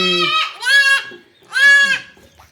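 Young goats bleat right after being dipped for parasite control: two loud, close, wavering cries separated by a short pause.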